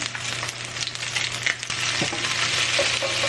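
Vegetables seasoned with salt and pepper sizzle steadily in a covered pan on the stove, a continuous close frying hiss with a couple of faint clinks, no voices.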